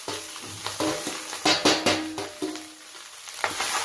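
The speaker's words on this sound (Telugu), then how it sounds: "ఇప్పుడు మనం చల్లారబెట్టుకున్న రైస్ కూడా వేసేసి కలిపేసుకుందాం." Cooled cooked rice and fried carrot pieces are stirred in a hot pan, giving a steady sizzle broken by repeated scraping and clattering stirs that come close and fairly loud, with no talking.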